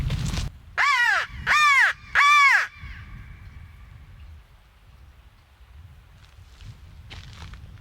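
A voice imitates a crow with three loud, harsh caws in quick succession as a locator call while turkey hunting, followed by quiet outdoor ambience and light patter.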